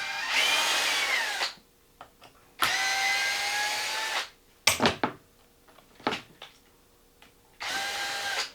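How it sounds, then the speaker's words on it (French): An electric drill driver whirs in several bursts, some long and some short, with pauses and clicks between them, removing screws from a Hobao Hyper VT 6S, close up and without speech. "les perceuses électriques, même brushless, c'est pas parce qu'elles vont vite que tu es obligé d'aller à fond"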